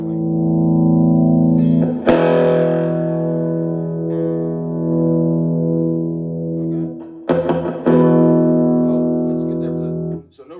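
Sustained distorted electric guitar chords, with no reverb and gain set high, ring out loud and close, sharp strums restarting the drone a couple of times before it fades.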